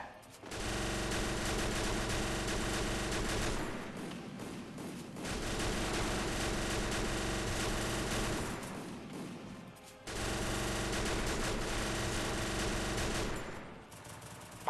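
Sustained automatic gunfire in the mobile battle-royale game Free Fire, a loud dense stream of shots broken by two brief pauses around the four- and ten-second marks.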